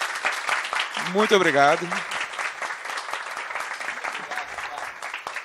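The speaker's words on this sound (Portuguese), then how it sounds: "eu quero uma salva de palmas para todos então aqui" At a literary meeting with a writer, the audience gives a round of applause, steady clapping heard throughout while someone briefly says thanks near the start.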